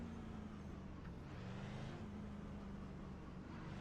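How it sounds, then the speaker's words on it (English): Race cars circling the track in iRacing, a steady engine drone with a faint whine rising and falling as cars pass at a distance, continuous and unbroken. "Some cars still going around."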